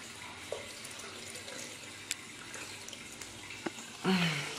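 Tap water gushes into a pet's water bowl at a home sink, a brief loud splashing burst near the end after quieter room background with a few faint clicks.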